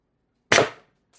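A single sharp report from a Beeman BP50 CO2 carbine air rifle with a 16-inch barrel and expansion-moderated silencer, firing a lower-powered shot as the gas runs low, a close, crisp crack that decays quickly, followed by a faint click.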